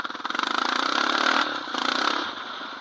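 A Honda TRX700XX ATV engine revs hard and close, a rapid pulsing buzz that climbs, holds, dips briefly and surges again as the rider tries a wheelie.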